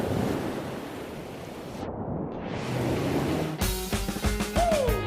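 Ocean surf at Narrabeen beach during a boardriders contest washes in as a broad, steady rush of breaking waves with wind buffeting for several seconds, then music suddenly cuts in over it.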